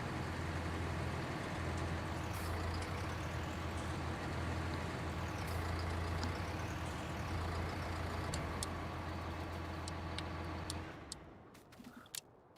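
A Claas Atles 900RZ tractor engine in Farming Simulator 19 drones at a steady low idle for about eleven seconds, then cuts off abruptly, leaving a few faint clicks in near silence.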